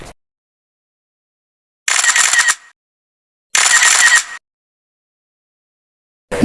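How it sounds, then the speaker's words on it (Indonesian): Two short bursts of camera shutter clicks ring out crisply, separated by silence, as photos are taken at a floating restaurant in Kota Baru Parahyangan, Bandung. A third burst begins right at the end. "Tidak lupa kami juga cekrek-cekrek dulu nih."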